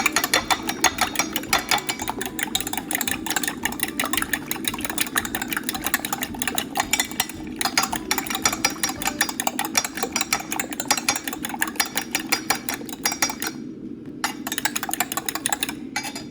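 Eggs and egg whites are whisked quickly in a bowl. A fast, even stream of clinking strokes continues close and steady, with a short pause near the end.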